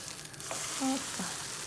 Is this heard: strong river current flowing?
no